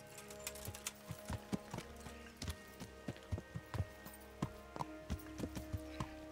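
Horse hooves clip-clop at a steady riding gait in the medieval role-playing game Kingdom Come: Deliverance, distinct hoofbeats close and clear over a low ambient game hum.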